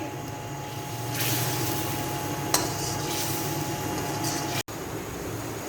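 Onions and masala for a desi lobia salan are stir-fried over a medium flame, giving a steady close sizzle and hiss with a low hum underneath and one brief scrape partway through.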